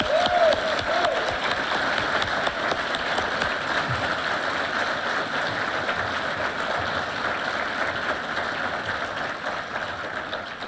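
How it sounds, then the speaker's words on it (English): A crowd at a police recruit class graduation ceremony giving a sustained round of applause, steady dense clapping that fades slightly toward the end. "if you would please join me in giving Recruit Class 71 a thunderous round of applause"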